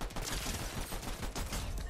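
Video game gunfire from a looted gun in a one-chest challenge match, a dense, continuous crackle of shots filling the whole stretch at steady loudness with no clear gaps or voices.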